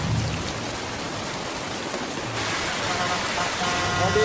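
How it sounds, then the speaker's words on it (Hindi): Heavy rain pours down near a water park at night, a steady dense hiss that fills the scene at close range, with faint voices and traffic noise underneath. "कितनी बारिश है भगवान।"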